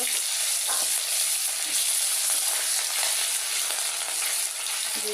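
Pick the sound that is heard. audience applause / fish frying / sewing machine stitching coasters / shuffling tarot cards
fish frying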